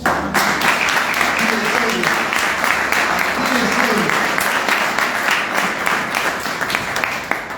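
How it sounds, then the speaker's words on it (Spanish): A church congregation applauds steadily and loudly during a sermon, a dense wash of clapping that continues throughout with a few voices mixed in. "Se merece un aplauso, Señor."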